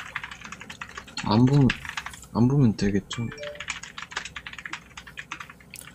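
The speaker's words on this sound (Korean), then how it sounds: "누가 이렇게 타이핑을 열심히 하세요?" Someone types fast on a computer keyboard during an online voice chat, a steady patter of close, crisp key clicks running throughout, partly under people talking.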